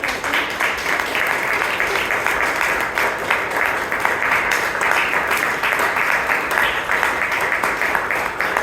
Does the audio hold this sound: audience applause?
yes